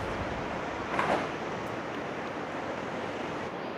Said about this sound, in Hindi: भीमधारा का जो झरने के रूप में जल गिर रहा है ना